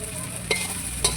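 Food for a Bengali home-cooked meal sizzles in a pan with a steady frying hiss, broken by two quick scraping stirs, close and brief.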